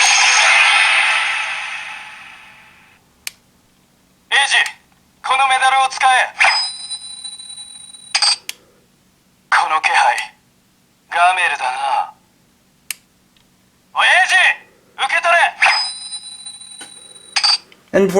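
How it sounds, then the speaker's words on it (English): An electronic toy belt opens with a hissing burst, then plays a series of short chiming, voice-like synthesized bursts separated by brief silences. "Which are just more of the generic combo changing sounds."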